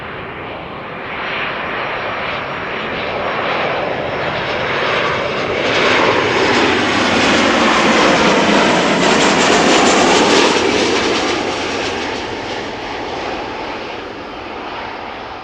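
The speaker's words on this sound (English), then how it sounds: "our next airplane is arriving from Rome, KLM flight 1602, 737-800" A KLM Boeing 737-800 arriving from Rome lands at Amsterdam Schiphol, its loud, close jet roar swelling to a peak mid-pass and then easing off, with no voices over it.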